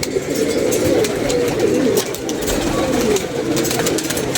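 Pigeons at home coo in a continuous low, murmuring chorus against a dense background hiss, steady throughout with no clear pauses.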